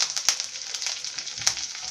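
Green chili, ginger and curry leaves frying in oil for masala dosa, a bright, close sizzle with quick crackles and pops.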